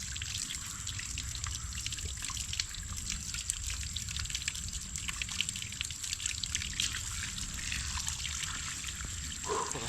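Cold water trickles and drips steadily, a continuous close patter and splash of flowing water that runs unbroken throughout, with no voices.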